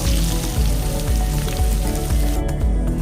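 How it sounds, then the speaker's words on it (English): Potatoes with salt fry in a pan, a loud steady crackling sizzle filling the whole stretch with dense popping, near and continuous, with no voices. "So fry them for about another 5 minutes and then take them off the pan."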